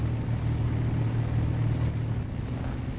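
A truck engine in the SnowRunner off-road video game drones steadily and loudly, a constant low rumble with only slight variation and no speech over it.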